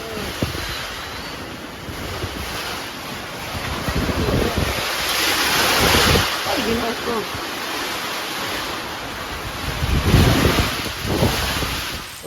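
Strong storm wind buffets the microphone with a steady roaring rush, swelling in gusts, while people talk faintly underneath.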